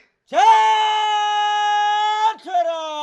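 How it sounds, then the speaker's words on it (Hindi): A person lets out a long, loud, sustained yell with a steady tone, then a short break and a second rising shout, close by and with no other sounds beneath it. "ऐसे चिल्लाना है"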